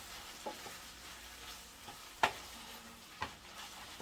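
Fresh garlic sizzling in a pan, a faint steady frying hiss with a few soft clicks of a utensil against the pan, quiet and close, no talk.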